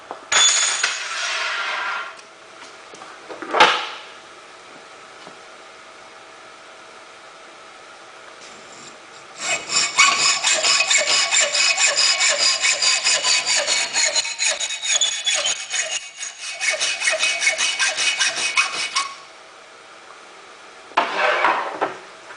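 A hand saw cuts 1/8 by 3/4 inch aluminum flat stock in a home workshop, giving brief scraping bursts and then a long run of steady, rhythmic metallic rasping strokes close by, with no talking.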